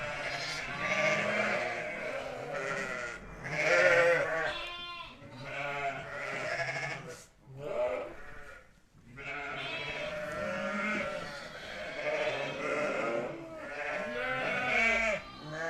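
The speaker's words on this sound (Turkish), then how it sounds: "kuzuları biraz size böyle göstereyim" A pen of lambs on dry bedding in a south-facing barn bleats almost nonstop. Many close, overlapping calls rise and fall over the whole stretch, with only brief lulls.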